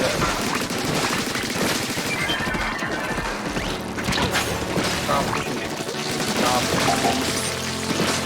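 Weapons fire in the video game Splatoon 3 during a Salmon Run match, a dense clatter of rapid shots, splats and crashes, loud and continuous, with a player talking over the action.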